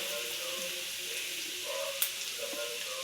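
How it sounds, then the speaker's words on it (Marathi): Minced garlic and cumin seeds sizzle in hot oil in a kadhai, a steady close frying hiss with a couple of small pops, heard alone without talk. "मी कढईत तेल घालून घेतले 2 पळे. तर त्याच्यात आपण थोडासा बारीक केलेला लसूण आहे ते टाकूया."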